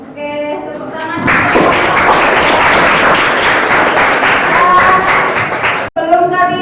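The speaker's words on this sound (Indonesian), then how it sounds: "Oke, tepuk tangan." Loud, dense applause from a classroom group claps continuously for several seconds, framed by brief speech at the start and end.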